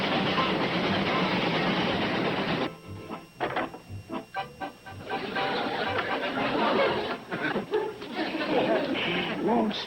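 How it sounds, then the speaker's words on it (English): A train rumbles along the rails with rhythmic clattering, steady and fairly loud, while people talk and chatter over the noise. "this train makes official scheduled stops only"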